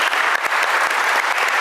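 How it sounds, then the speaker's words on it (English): An audience at a 2024 science panel event gives a round of applause, dense steady clapping from many hands that fills the room and continues at an even level throughout. "So I'd like to thank all of them with a round of applause."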